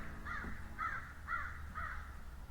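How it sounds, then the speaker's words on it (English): Crows caw outdoors in four evenly spaced harsh calls, moderately distant over a low background rumble. "The crows are squawking about something over there."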